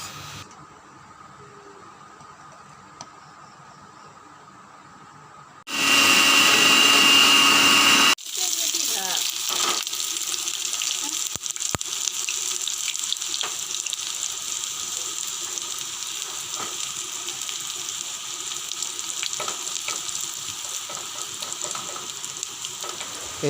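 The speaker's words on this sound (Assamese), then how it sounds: "এতিয়া মিক্সাৰৰ বাতিটোত মাৰি ল'ম ভালদৰে।" A mixer grinder whirs loudly for a couple of seconds while blending fried coconut, tomato, chili and mustard into chutney, then gives way to a steady lower hum and clatter in a home kitchen.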